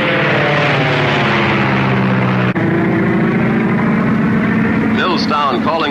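A propeller airplane on a night flight in 1936 drones loudly and steadily throughout, its engine hum unbroken except for a brief click midway, with a faint voice near the end.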